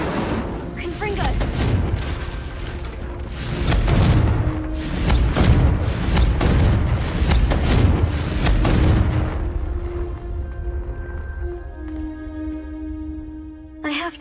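Confringo spell blasts in the Hogwarts Legacy video game: a series of heavy booming explosions, about six in quick succession, loud and near, then a fading tonal ring, with voices shouting over them.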